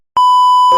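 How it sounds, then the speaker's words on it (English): A single loud, clean electronic beep holding one steady tone for about half a second and then cutting off sharply. "This is the last time you'll hear a beep from me."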